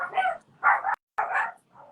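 Several dogs bark in short, loud bursts, about three yaps in two seconds with a brief silent gap, close by and indoors, followed by a fainter trailing yelp.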